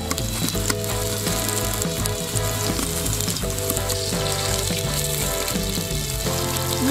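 Zucchini boats frying in oil over a grill, a loud, steady crackling sizzle with rapid popping, close and continuous with no talking.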